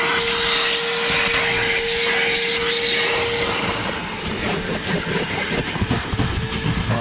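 Vacuum cleaner working inside the cabin of an AMG GT S, a loud continuous whirring drone with a steady whine that wavers and rattles as the nozzle moves around, with no speech.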